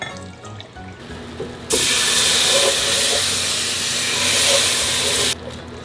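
Whole milk hits a hot flour roux for a mac and cheese sauce, bursting into a loud, sustained steamy hiss that holds for several seconds before cutting off abruptly, with quieter kitchen sounds before and after.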